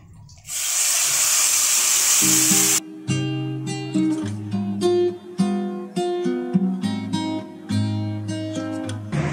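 Nigella seeds and asafoetida crackle and sizzle in a pan of hot oil, a loud steady hiss for about two seconds that cuts off abruptly, followed by melodic music.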